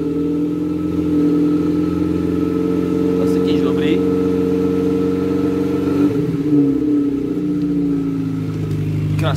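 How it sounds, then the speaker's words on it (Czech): A Škoda Favorit engine running and revving steadily with a droning tone and a shift midway, loud and close, its exhaust crackling. "Krásný tuning, že jo, praskavý výfuk."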